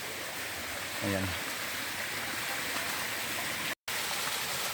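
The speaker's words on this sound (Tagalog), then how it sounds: "Yun na yung pinaka Mother Falls, mga master." Mother Falls at Tarimis roars as a steady, loud broadband rush of falling water, and someone speaks briefly over it.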